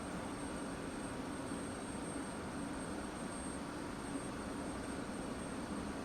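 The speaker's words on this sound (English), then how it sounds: "Throttle's coming forward. RPM's coming up." F-16C jet engine spooling up in the DCS flight simulator, a faint, steady turbine whine and roar held at an even level throughout.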